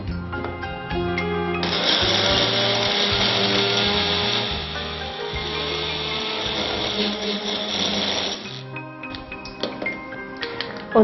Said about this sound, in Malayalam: നമുക്കിതൊന്ന് മിക്സിയിൽ അരച്ചെടുക്കാം